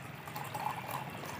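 Plain tap water pours steadily into a container for a chemical solution of sodium metabisulfite, a soft continuous splashing trickle heard close and alone at low level.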